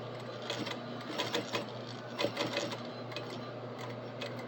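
A sewing machine runs steadily while stitching belt loops onto a garment, its motor hum and fast needle rattle continuing throughout with small surges in pace, moderately quiet and without speech.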